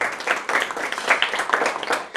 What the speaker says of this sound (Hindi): इसके लिए एक बार ताली बजाया जाए